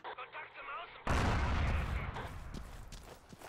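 Gunfire and artillery blasts in the World War II shooter Forgotten Hope 2 at Mont Castre, with a loud booming burst that kicks in abruptly and rumbles away, preceded by someone talking over faint background noise.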